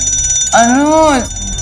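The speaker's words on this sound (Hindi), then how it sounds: "प्लीज अपना अलार्म बंद करो।" An alarm rings in a domestic drama scene, a single loud electronic warbling tone that rises and falls for under a second over a quiet background.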